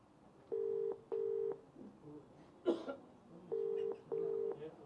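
A telephone being dialed: four steady electronic tones in two pairs, a brief clatter between them, then another pair; clear, close and alone with no voices.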